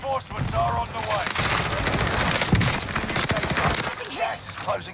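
Dense, sustained gunfire from the video game Call of Duty Warzone rattles in rapid overlapping bursts, loud and continuous throughout, with faint voices mixed underneath.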